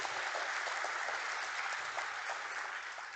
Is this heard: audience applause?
yes